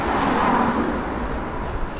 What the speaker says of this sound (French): C'était une voiture.